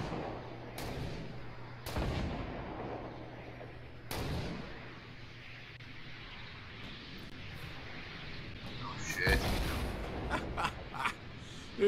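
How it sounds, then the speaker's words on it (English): Rockets explode in a Fortnite battle: a few dull, distant booms land at irregular intervals over a low ambient rumble, faint overall, with a louder burst of activity near the end. "you hear all those rockets just going ham at you guys?"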